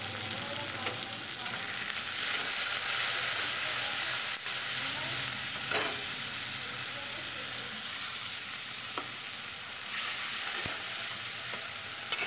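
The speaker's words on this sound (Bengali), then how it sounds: "এবার মশলাটাকে একটু ভালো করে কষিয়ে নেব।" Spice paste with salt and turmeric fries in hot oil for a Bengali shol fish dish, giving a steady, dense sizzle that runs close and unbroken throughout, with a few faint clinks of a utensil.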